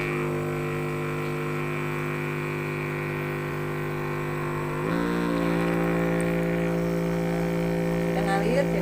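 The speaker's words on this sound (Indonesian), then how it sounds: "kita hidupkan pompanya" Water pump switched on partway through deep cleaning of a machine, its steady motor hum with strong harmonic tones rising and growing louder after starting, running continuously and close.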